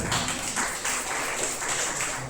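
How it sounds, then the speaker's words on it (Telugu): Steady rhythmic clapping by a congregation at a Telugu worship service, loud and continuous with a regular beat. "అందరూ చప్పట్లు కొట్టి దేవుని స్తుతిస్తారు."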